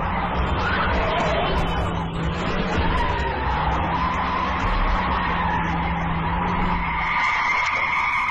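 A car skids with drawn-out, wavering tire squeals and engine noise for several seconds, loud and close, before the screech shifts to a higher tone near the end.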